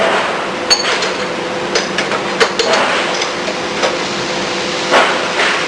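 Metal hand tools such as Phillips screwdrivers and wrenches of various sizes clink and knock on a tool cart, with scattered sharp taps over steady background noise and no talk.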